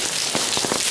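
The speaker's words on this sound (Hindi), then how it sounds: "ये बारिश है, लोग घर में बैठे हैं, बाहर आ नहीं पा रहे हैं" Steady rain falls outdoors in cold, cloudy weather, a dense, loud hiss of drops on surfaces with a few heavier splatters, continuous and without voices.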